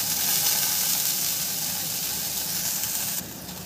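About a spoonful of soy sauce hits a hot pan while fried momos are being made, setting off a loud, dense steaming hiss that holds steady and then eases off near the end.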